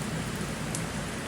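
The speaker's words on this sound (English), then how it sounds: "It's so fast raining here, and all things are just taking bath in the water" Heavy rain pours steadily in Ottawa, Canada, a dense, even hiss of drops striking surfaces that fills the whole moment close up and without pause, with no voices.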